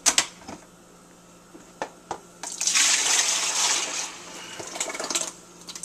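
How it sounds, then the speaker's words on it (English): Rice mixture for homemade horchata pours into a container, a soft liquid gush lasting a couple of seconds between scattered clicks and taps. "You pour the mixture into your container."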